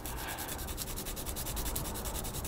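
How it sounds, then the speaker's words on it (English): Steady, close rasping of sandpaper on the end of a 1/48 scale plastic model part, a continuous gritty scratch with a quick rhythmic stroke. "So a nice quick little sanding on one end."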